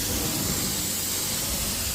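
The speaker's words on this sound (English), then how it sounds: "I'm actually going to post spray, and then I'm going to" A continuous close hiss of a sprayer misting odor treatment onto dog-urine-stained carpet, steady and unbroken throughout.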